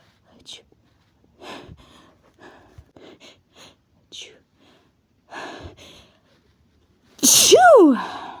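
A woman's breathy, whispery sneeze build-ups, a series of short gasping inhales and hitches spread across the clip, ending in one loud, forceful sneeze with a falling vocal squeal.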